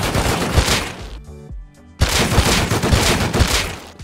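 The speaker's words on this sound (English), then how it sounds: "It was like grenade launcher" Grenade launcher in the survival game Rust, fired in a rapid burst of loud explosive blasts, then a short quiet gap before another dense volley of booming impacts.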